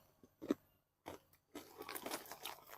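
Crunchy cilong snack, a chewy Indonesian tapioca treat, crunched between the teeth in a few sharp bites, then a longer run of close, crackly chewing with no talk.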